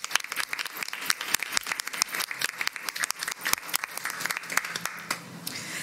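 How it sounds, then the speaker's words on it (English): A crowd at a school board of education meeting applauds Blue Ribbon teachers with steady, dense clapping, moderately loud and continuous for several seconds. "Let's give them a round of applause."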